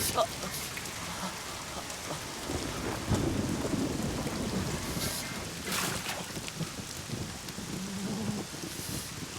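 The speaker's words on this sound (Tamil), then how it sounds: "மழை நல்லா பெய்யுது." Heavy rain pours steadily while rolls and cracks of thunder break through, loud and close throughout, with no talking over it.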